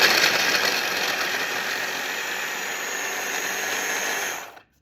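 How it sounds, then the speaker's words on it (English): A small electric food chopper running steadily on vegetables for stir fry, a loud, even motor whir with a grinding edge that holds for about four seconds and then cuts off abruptly. "This is my little food chopper."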